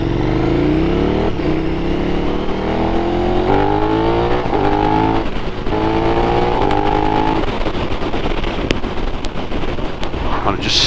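A KTM Super Duke motorcycle with a Pipewerx GP exhaust, baffle removed, rides past steady wind noise and blips through a run of downshifts, with the engine note stepping up repeatedly and loud and close.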